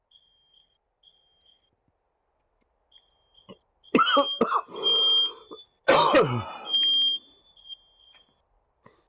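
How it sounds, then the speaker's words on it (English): Short high electronic fire-alarm beeps chirp at intervals in the Firewatch video game, faint and repetitive, broken by loud coughing or groaning noises in the middle. "really am getting annoyed with that damn fire alarm."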